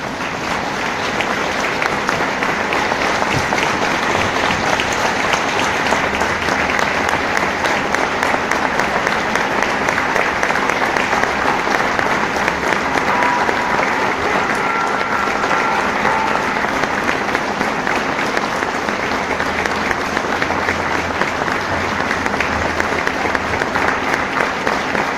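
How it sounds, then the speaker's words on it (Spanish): A large audience at a talk on the Battle of Tenochtitlan gives sustained, dense applause, a steady wash of clapping that continues without pause throughout. "Un minuto de aplausos mejor."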